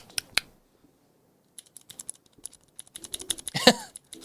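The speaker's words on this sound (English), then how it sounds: "I really hate these loud keys." Loud clicky computer keyboard keys clatter in scattered bursts of sharp taps during a podcast recording, with a throat-clearing noise near the end.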